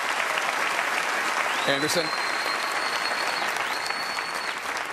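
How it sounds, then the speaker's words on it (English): Sustained applause from a large audience at a 2015 CNN Republican presidential debate fills the whole stretch, steady and loud, with a brief spoken word and a high tone over it. "let's have one final round of applause for the candidates"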